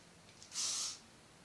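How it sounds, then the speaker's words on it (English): Hairspray from an aerosol can is sprayed onto the roots of the hair in one short, soft hissing burst of just under half a second, close to the mic, with quiet surroundings and no speech. "And then spray it in my root again, just to keep that lift."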